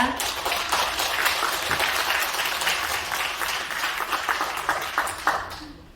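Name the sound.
applause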